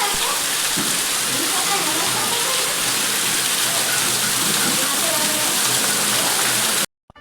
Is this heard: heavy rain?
yes